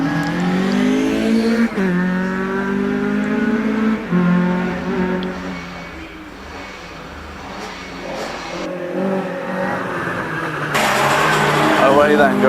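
A white Ford Mark II Escort rally car with a bank of front lights revs hard and climbs a hillclimb course. Its engine drones through shifting gears under continuous commentary, with a second engine rising near the end.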